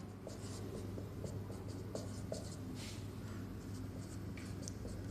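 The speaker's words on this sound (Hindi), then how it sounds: "हम लिखेंगे यहाँ पास सॉल्यूशन में" A pen writes out a maths solution on paper, giving a steady run of soft scratchy strokes with small taps, faint and close over a constant background hum, with no talking.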